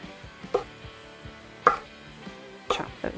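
Knife chopping a peach on a board while preparing a blender drink with honey: a few sharp, separate cuts spaced about a second apart, fairly close and clear, with faint softer taps between and no talking.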